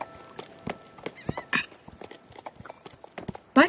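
Horses walk with a clip-clop of hooves in the video game Star Stable Online, irregular hoof taps with a brief whinny-like squeal midway and a louder burst near the end.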